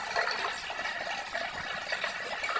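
Water pours steadily into a pot of fish curry, a continuous close splashing gush with no pauses.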